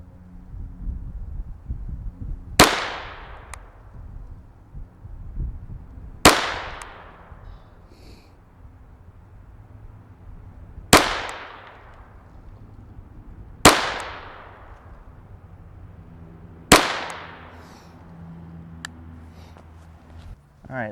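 Shots from a SIG P322 Competition .22LR fired at a target, five sharp, fairly loud cracks spaced a few seconds apart, each with a short decaying ring, and speech between them.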